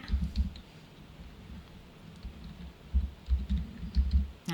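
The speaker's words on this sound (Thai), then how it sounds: "พิมพ์คำว่าคณะ" Computer keyboard keys tapped in short irregular bursts while entering a search keyword, quiet and close, with brief pauses between clusters of clicks and no talking.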